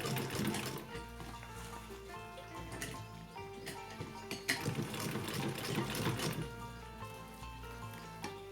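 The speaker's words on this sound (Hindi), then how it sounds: "इसे हमें ऐसे ही सिलाई लगानी है इस पर।" A sewing machine runs continuously, stitching a small summer dress for a Laddu Gopal idol with a steady, close, mechanical whir.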